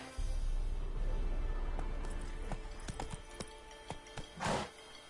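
Hoofbeats of Roach, Geralt's horse in The Witcher 3, galloping in a quick, rhythmic clip-clop close by, with a few sharper thuds toward the end.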